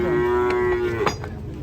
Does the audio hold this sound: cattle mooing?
yes